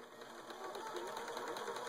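A serger hums and whirs steadily as it sews the short ends of fabric for reusable snack bags, quiet and close, with no talking.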